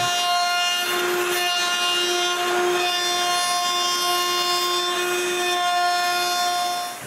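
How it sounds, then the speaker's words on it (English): Wood router cutting a roundover profile around wooden rings for a coat rack, a steady, loud, close-up high-pitched whine with strong tonal harmonics running without pause, no voices. "So now I can route a roundover all the way around both rings."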